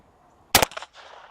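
A .22 caliber rifle shot striking a cinder block wall, one sharp close crack followed by a short echoing tail.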